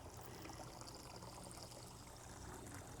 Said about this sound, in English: we'll go ahead and water a little bit